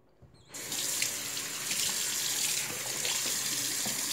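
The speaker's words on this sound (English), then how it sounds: "We are going to use warm water, and I'm going to go ahead and wash this off." Warm tap water gushes steadily into a bathroom sink to rinse off an oatmeal face mask, starting abruptly after a brief quiet moment and then running continuously, close and fairly loud.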